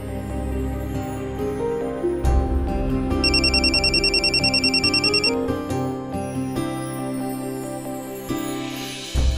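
A telephone rings in a rapid repeating trill for about two seconds, mixed in with background music.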